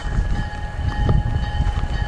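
A lone locomotive clearing snow and ice off a railroad crossing after a snowstorm in Michigan's Upper Peninsula rumbles heavily nearby, with a steady engine drone, a faint sustained horn tone and no talking.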